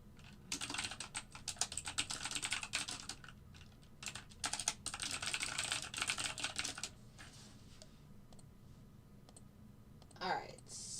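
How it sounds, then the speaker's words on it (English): Rapid typing on a computer keyboard during a live algorithmic trading session, clicking in dense, close bursts with brief pauses and a faint voice underneath. "Sorry for all the typing today, guys."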